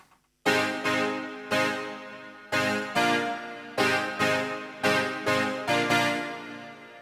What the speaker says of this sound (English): The second most important sound, I think, is the piano sound.